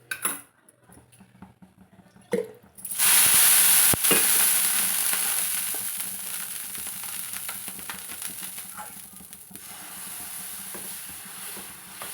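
A wheat flour dosa fries in oil on a pan. After a few quiet clinks of utensils, a loud sizzle bursts up and then slowly fades to a steady crackle with occasional scraping.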